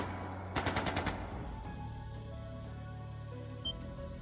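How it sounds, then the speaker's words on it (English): A quick burst of about six rapid gunshots, like automatic fire, in The Legend of Heroes: Trails of Cold Steel II, followed by a low steady hum and one faint later knock. "That sounded like gunfire."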